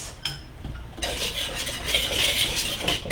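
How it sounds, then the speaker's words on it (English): Pumpkin cupcake batter for tres leches cupcakes whisked in a bowl, a close, continuous wet stirring and clinking of the whisk against the bowl, starting soft then growing steady and louder. "I'm going to use my whisk to incorporate this."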